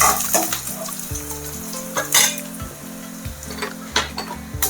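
Ginger garlic paste hits fried onions in a pan for arvi salan, a close hiss and sizzle punctuated by utensil scrapes and clinks over steady tonal background music.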